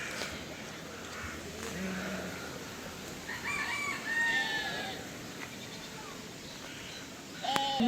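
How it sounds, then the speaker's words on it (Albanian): Roosters and hens on a farm near Überlingen, Germany: a rooster crows clearly mid-clip amid scattered clucks and calls, over steady outdoor background noise. "Sa të bukura këto gjelat, pula që janë."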